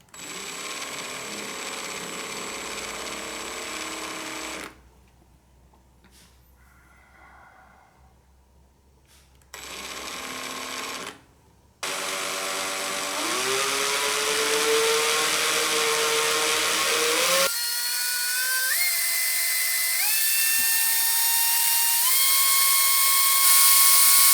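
A power drill whirs in several bursts, stopping and starting, then runs steadily and rises in pitch as it winds coil wire into a twisted parallel heating coil; no talking.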